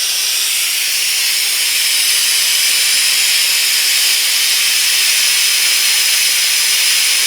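An air-powered suction gadget on a shop air line draws oil out of a 780cc feed roller motor, giving a loud, steady, high hiss that runs unbroken from start to finish with no voices.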